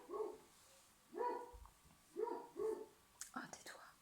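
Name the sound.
neighbour's dog barking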